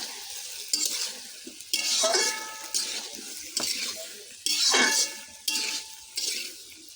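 Food cooks in a pot over a wood fire, with roughly seven short, close bursts of stirring, scraping and sizzling separated by brief quieter gaps.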